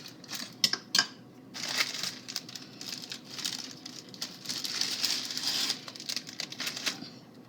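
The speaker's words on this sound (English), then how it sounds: "we're going to top it off with one more layer of graham crackers" Graham crackers are laid one by one onto a s'mores tiramisu as its final layer, giving close, dry clicks, taps and crinkly rustles that come in quick bursts and scattered patter with no talking.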